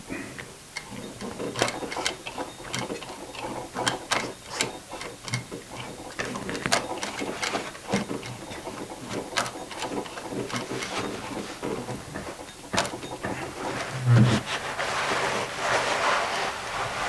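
A sewing machine stitches a seam in slightly stretchy jeans fabric, a steady mechanical whir broken by irregular clicking bursts and short pauses, fairly close, with no voices.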